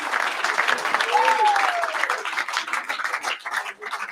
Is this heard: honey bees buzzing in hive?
no